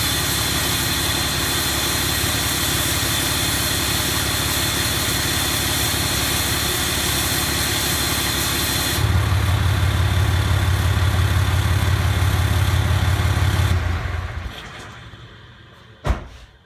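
Diesel truck with EGR/DPF delete idling in a steady, continuous low rumble that grows deeper and louder partway through, then fades out and ends with a single sharp knock.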